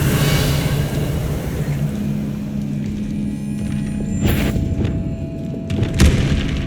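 A Confringo blasting spell goes off during a fight in Hogwarts Legacy, with heavy booms and sharp bursts over a rumbling combat background, the loudest blast near the end.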